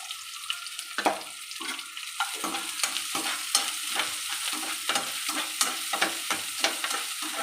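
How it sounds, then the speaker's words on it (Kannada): Onions and curry leaves frying in oil for a tempering, with a spatula scraping and stirring the pan in an irregular rhythm over a soft, steady sizzle. The sound is close, with no voices. "ಈರುಳ್ಳಿ ಕರಿವೇಸೊಪ್ಪು ಹಾಕ್ತೀನಿ"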